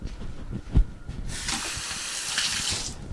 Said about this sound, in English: I'm just going to give this one a little rinse inside.